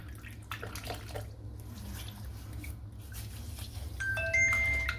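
Tap water runs and splashes as hands wet a face for shaving, giving a faint, continuous wash with small drips and a brighter splash near the end.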